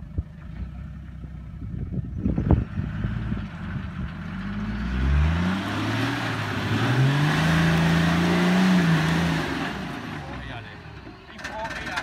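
A 1HDT-engined Land Cruiser 80 series 4x4 idles and revs as it works a wheel up over an obstacle at a 4x4 park, steady engine drone rising and falling under people talking nearby.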